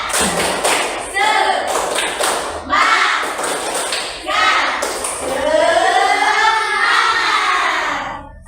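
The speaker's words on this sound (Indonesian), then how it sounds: "Tepuk semangat." Schoolchildren in a classroom chant the 'tepuk semangat' cheer in unison, loud young voices rising and falling over a rhythm of sharp hand claps and thumps, with short pauses between phrases.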